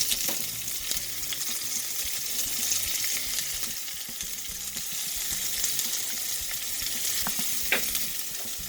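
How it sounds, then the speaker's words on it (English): Baby eggplant and onion fry in mustard oil with a steady, close sizzle, broken by a few soft stirring knocks and a sharper clink near the end, with no voices. "we're going to take a little bit of the mustard oil and we're going to cook some baby eggplant"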